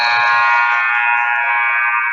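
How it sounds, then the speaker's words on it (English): A basketball buzzer ends the first half of a high school boys' game at Morgan County versus Elliott County in West Liberty, giving one loud, steady electronic tone that holds for about two seconds. "So the buzzer brings us to the end of a very entertaining first half"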